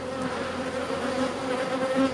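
Honeybees buzz steadily at a hive in a dense, continuous drone, close and loud without pause, with no voices.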